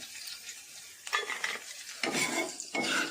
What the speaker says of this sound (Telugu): ఇలా దోరగా వేపేసుకున్నాం కదండి